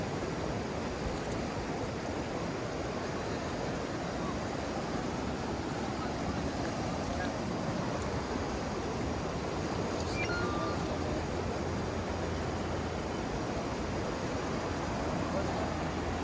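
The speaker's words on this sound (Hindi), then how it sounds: "पानी की ये आवाज़ माइंड को इतना रिलैक्स कर देती है" Steady broadband rush of the Kunhar River flowing near Balakot, a continuous close wash of water with no pauses and no voices over it.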